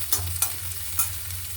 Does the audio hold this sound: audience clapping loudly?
no